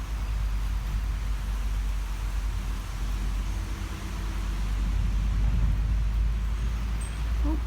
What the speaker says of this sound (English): You can also hear the water flowing down the river.